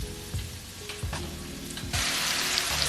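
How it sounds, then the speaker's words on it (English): Chopped veggies and minced garlic sauté in a hot pan, a close, steady sizzle broken by a few stirring knocks, which swells to a louder, brighter fry for the last second. "So our veggies have been sauteing for a couple minutes"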